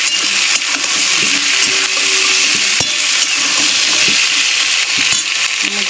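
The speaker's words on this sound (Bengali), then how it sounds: "তো সবজিগুলো আগে একটু ভাজতে দেবো।" Vegetables with slit green chillies and chopped tomatoes fry in a pan, giving a loud, steady sizzle with occasional scrapes and soft clatters of stirring throughout.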